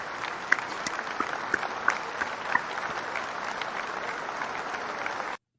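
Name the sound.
audience applause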